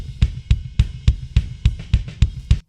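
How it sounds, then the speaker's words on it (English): A solo kick drum from a recording thumps in a steady pulse of about ten punchy beats, dry and close with nothing else playing. "So this is kick drum number 1."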